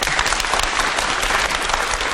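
A school audience applauds in honour of Goce Delchev, a dense, sustained wash of many hands clapping at steady loudness, with no talk over it.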